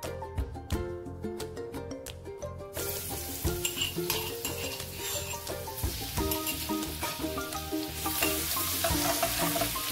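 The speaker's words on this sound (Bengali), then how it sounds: "এখন থেতো করে রাখা রসুনগুলো গরম তেলে দিয়ে দেবো" Crushed garlic hits hot oil and bursts into a loud, crackling sizzle that carries on steadily, with a spatula scraping and clinking against the pan throughout.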